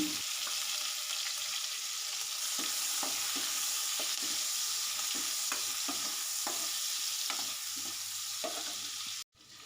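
Thin-sliced onion fries in a hot pan with a steady close sizzle throughout, broken by repeated scraping stirs of a spatula, ending in a sudden brief cutoff; nobody speaks.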